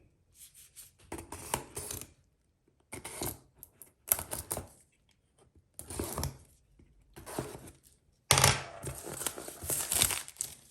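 Plastic packaging for LED headlight bulbs being cut and torn open before installing them on a C5 Corvette, heard as bursts of crinkling and snipping with short quiet gaps, loudest near the end.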